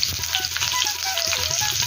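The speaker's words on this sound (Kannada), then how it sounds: "ಎಲ್ಲ ಪದಾರ್ಥಗಳನ್ನು, ಮಸಾಲೆ ಪದಾರ್ಥಗಳನ್ನೆಲ್ಲ ಫ್ರೈ ಮಾಡ್ಕೋಬೇಕಾಗುತ್ತೆ" Onion, cinnamon and cloves fry in a pan for a Butter beans chicken curry, a steady soft sizzle with faint crackles close by.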